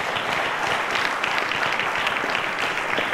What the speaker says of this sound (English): A round of applause to all of them,